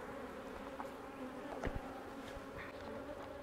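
Honeybees hum steadily around an open hive during an artificial swarm split, with a soft continuous buzz and individual bees flying close past at intervals.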